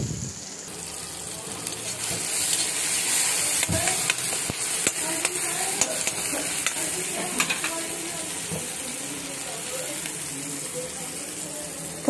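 Eggplant and potato being stirred and fried in masala, giving a continuous moderate sizzle with scattered clicks and scrapes of a spoon against the pan. The sizzle fades slightly toward the end.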